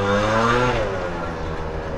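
A repaired Honda Dio motor scooter engine running close by with a steady, smooth hum whose pitch drops slightly as the revs settle.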